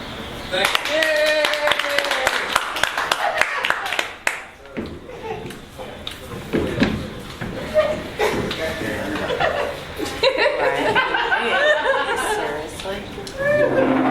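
A crowd claps and laughs, with scattered chuckles and chatter; bursts of applause rise and fall across the clip amid voices.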